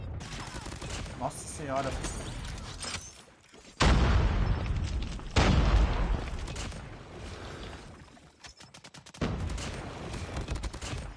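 A QQ9 submachine gun in COD Mobile fires several loud, close bursts of rapid shots separated by brief pauses, with a voice speaking over part of it.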